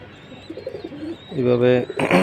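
Pigeons let out from their cage give soft cooing calls, a few low rounded coos rising near the end, close by with some background voices.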